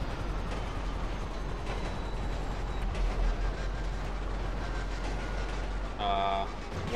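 A train in GTA Online gives off a steady low rumble across the whole stretch. A brief tonal horn-like sound comes near the end, and a voice talks over it.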